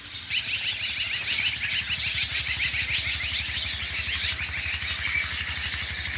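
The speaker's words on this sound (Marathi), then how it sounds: "चिमण्यांचा आवाज. चिमण्या इथं सगळ्या बेलाच्या झाडावर." A flock of sparrows perched in a thorny bael tree in a village keeps up a dense, continuous twittering, fairly faint and steady throughout, over a low background hum.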